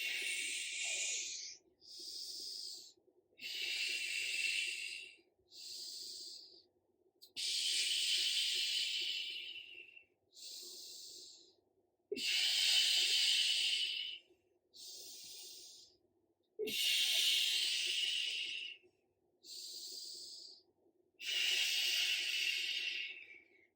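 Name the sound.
breathing during a core workout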